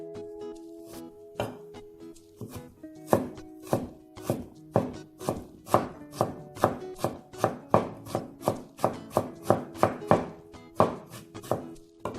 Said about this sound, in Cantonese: 呢個薑切幼粒，咁你都可以磨嘅。